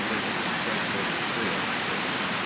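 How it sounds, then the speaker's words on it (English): Water pouring over an old mill dam at a mill ruin, a dense, steady broadband rush like a waterfall, loud and close with no break. "And we hear a waterfall. Or we hear water running. You hear the dam."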